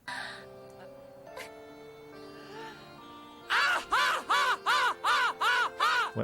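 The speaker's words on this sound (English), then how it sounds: "Wow, it sounds like a crow." Loud, repeated caw-like yells from a crow-sounding creature in Final Fantasy X, about eight evenly spaced harsh squawks close up, following a quieter stretch of game music and ambient tones.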